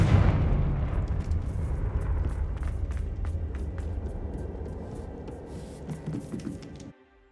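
A Confringo blasting spell bursts in Hogwarts Legacy, a loud rumbling explosion that rolls and slowly decays over several seconds with scattered crackling debris before cutting to silence.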